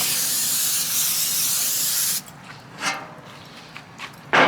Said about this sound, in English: coat it pretty good and thick with that spray oil